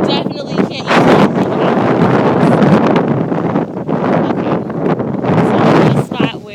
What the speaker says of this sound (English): The wind is getting really strong.